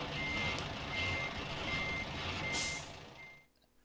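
Steady reversing beeps from a truck backing up in American Truck Simulator, repeating tones over a continuous engine and road rumble, with a brief air hiss near the end before the sound cuts out.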